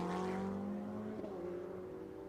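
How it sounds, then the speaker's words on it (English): Audi R8 GT race cars race at Motorland Aragon in a GT sprint cup event, producing a steady, fairly quiet engine drone with a held pitch from a distance. "They make such a great sound, do those R8s"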